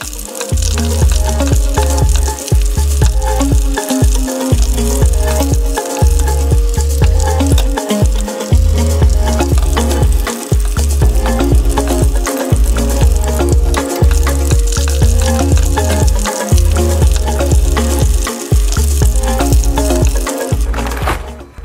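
Frozen potato wedges frying in hot oil, a loud continuous bubbling sizzle with a rhythmic low thumping pulse underneath, close and steady throughout.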